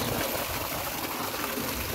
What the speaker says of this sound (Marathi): solar pump